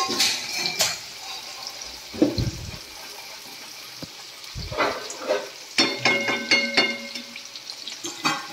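Sliced onions fry in hot oil for a mutton curry, a steady crackling sizzle broken by clinks of the pan and spoon and bursts of louder spattering as they are stirred.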